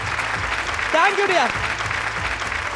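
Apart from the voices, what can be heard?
audience applause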